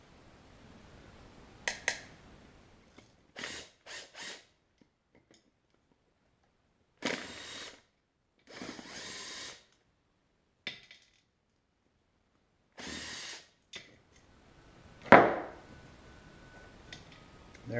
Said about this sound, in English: then you can use the impact gun to spin them out just to save you some time